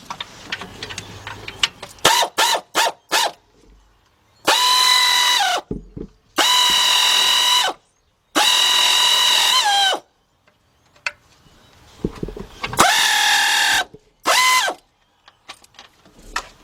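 Power tool tightening a bolt on the water pump of a 1977 Buick LeSabre 5.7, heard as a burst of quick ratcheting rattles followed by several loud, sustained whining runs that rise and fall, close up with brief pauses between.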